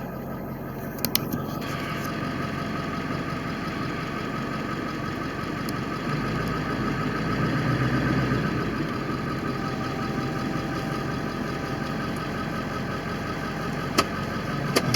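A Ford 7.3 Power Stroke diesel pickup truck engine, not yet at operating temperature, runs steadily with a dense, even rumble as the truck pulls out, near and continuous with a few faint clicks.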